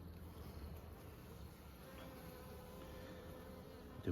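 Honey bees hum faintly and steadily around a weak nucleus hive, a soft continuous buzz with a brief knock at the end.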